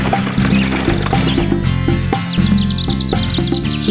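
A horse whinnies against a busy musical backdrop in a children's cartoon, with clopping hooves and light bird chirps scattered through.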